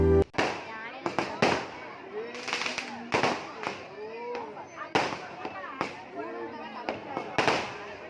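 Firecrackers burst at a Kanda Sashti Soorasamharam temple festival, with a rapid irregular series of loud, sharp bangs ringing out over crowd voices and chatter throughout.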